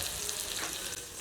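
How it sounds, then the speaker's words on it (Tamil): Steady, bright hiss of hot oil sizzling as it is poured over onion-tomato chole masala, continuous and close, with no voices. "இதில் இப்போ எண்ணெயை நல்லா கொதிக்க வச்சு அந்த தாளிப்பை இதில் ஊற்ற போகிறோம்."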